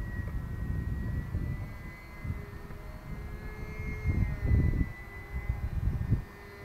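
A drone flies high overhead as a faint, distant motor whine that swells and fades under wind-like rumble, with no voices.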